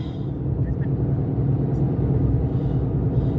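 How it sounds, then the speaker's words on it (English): Steady, low road traffic rumbles continuously from nearby vehicles with no distinct pass-bys. "You can hear that the road, right?"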